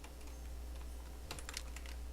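Computer keyboard typing while coding in Game Maker: a steady patter of close key clicks, with a sharper cluster of keystrokes around the middle, no voices.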